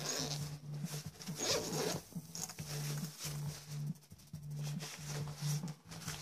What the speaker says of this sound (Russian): Здесь пластиковая молния с металлическим бегунком.